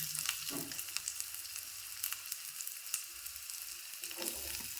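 Onion frying in hot oil with spluttering mustard seeds, a dense continuous crackle and hiss with small sharp pops, steady and fairly quiet, no talking.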